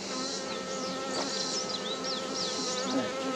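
Honey bees buzz around a hive during a honey harvest, a dense, continuous drone of many insects with individual bees whining past up close, steady and moderately loud.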